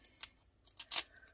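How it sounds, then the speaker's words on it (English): A few quick snips of scissors trimming paper while setting up a planner page, crisp and close, with three or four short cuts spaced unevenly across a moment of otherwise quiet. "I'll pop scissors and then you can just do a little trim"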